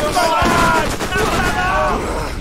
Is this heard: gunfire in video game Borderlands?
yes